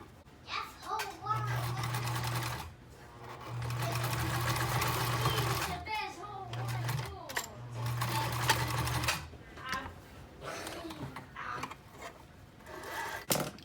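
Home sewing machine stitching a cloth face mask from the fabric edge to a marked point, its steady motor hum running in several bursts with pauses between, while children's voices chatter in the background.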